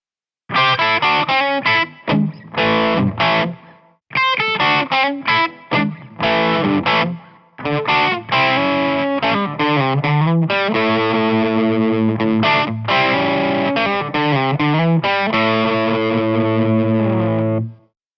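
Crunchy, fuzzy distorted electric guitar through a modified DM King distortion pedal with two DK9 germanium diodes, playing chords and riffs, loud and close, with brief pauses between phrases and no voices.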